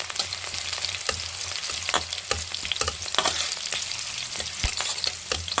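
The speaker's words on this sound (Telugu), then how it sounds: "బాగా ఫ్రై చేసేసుకున్నాం." Egg pieces fry in a pan, a dense, close sizzle with frequent sharp scrapes and clicks of a utensil stirring them, continuous and without talk.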